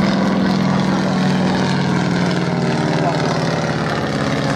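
A Boeing Stearman biplane from the 1930s flies at an air display, its radial engine and propeller giving a continuous, loud droning buzz with no break across the whole stretch.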